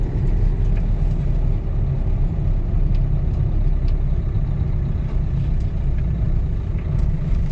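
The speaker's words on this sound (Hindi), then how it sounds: "चलो जी, अब और रेस दबा रहा हूँ।" A Ford car's engine revs up as it accelerates in third gear while driving, a loud steady rumbling drone building under continuous road noise from inside the car.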